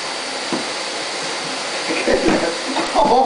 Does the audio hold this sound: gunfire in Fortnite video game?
no